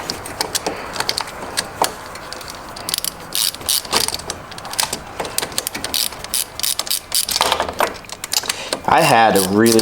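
A quarter-inch socket ratchet clicks in dense, uneven bursts while tightening bolts during a 1996 Honda FourTrax 4x4 overhaul, with a louder whirring burst near the end.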